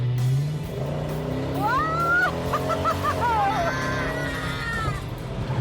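A restored classic Maserati accelerates from inside the cabin, its engine note rising and falling through gear changes while people speak and exclaim over it.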